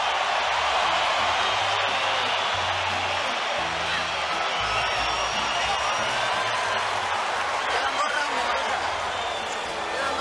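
Dense, steady roar of a boxing arena crowd on its feet during Gennady Golovkin versus Canelo Alvarez, a sustained wall of cheering and shouting that barely dips across the whole stretch.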